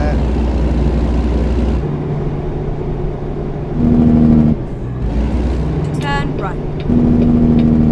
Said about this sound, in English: I like this truck. I love the way it sounds